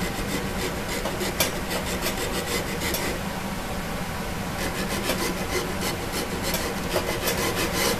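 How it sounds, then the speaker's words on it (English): A metal file works the edge of a guitar fret slot in steady, rapid rasping strokes, close and continuous with small scraping accents. "put the corner of it into the slot and file it slightly"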